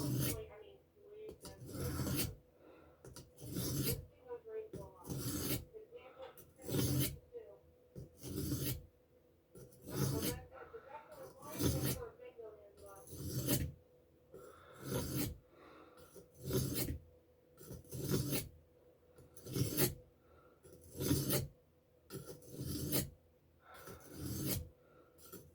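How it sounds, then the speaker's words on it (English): A blade is drawn again and again across a sharpening stone, each stroke a crisp scraping rasp in a steady, even rhythm of roughly one stroke per second, close and clear with no talk. "you can sharpen pretty much any blade like this"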